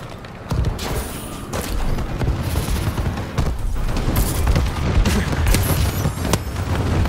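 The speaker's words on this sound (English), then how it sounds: "Friendly bombing run incoming." A bombing run in the video game Call of Duty Advanced Warfare, with dense, loud rolling explosions and booming blasts overlapping continuously, close and heavy without pause.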